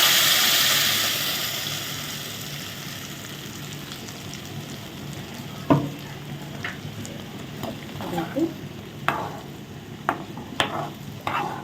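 Ground peanut chutney paste tipped into a hot pan, starting with a loud hissing sizzle that settles into a quieter fry, followed by a run of soft scrapes and knocks from stirring, heard close up.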